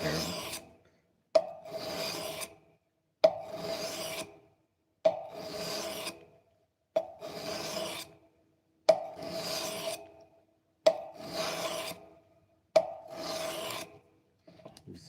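Rhythmic rasp of a file drawn repeatedly along a blade edge to remove the burr, eight even strokes about two seconds apart, each a close, bright scraping sweep with short silences between, no talking.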